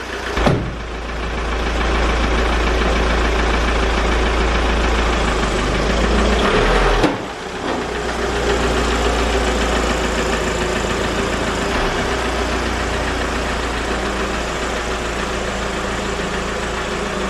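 An Audi A3 petrol engine with a newly fitted turbo idles steadily and loudly, a continuous low rumble with a brief dip partway through, running alone without talk.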